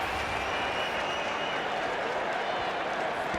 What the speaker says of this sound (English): Perry Baker is getting a standing ovation from the crowd.